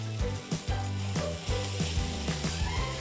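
Hara bhara kebab mixture sautéed in a pan on an induction cooktop until dry, with a steady sizzle and rhythmic scraping stirs roughly every half second, close and continuous.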